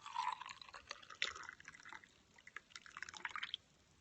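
Brewed Gesha pour-over coffee being poured into a Chemex mug, a quiet uneven trickle and splashing of liquid over a few seconds, faint and close, with no talking.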